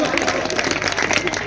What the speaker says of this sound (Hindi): तालियां बजाओ यार